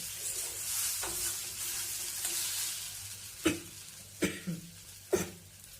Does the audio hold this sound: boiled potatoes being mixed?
yes